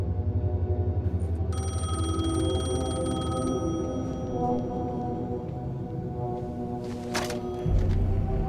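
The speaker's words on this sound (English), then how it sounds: "The payphone was ringing." A payphone rings in Alan Wake 2, a bright electronic trill that repeats over a low, booming foghorn-like drone before a heavier rumble swells at the end.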